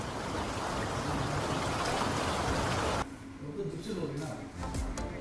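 Heavy rain pours down during flooding in Hong Kong, a loud, steady broadband wash of falling water for the first three seconds before dropping to a softer splashing and trickling mixed with faint voices.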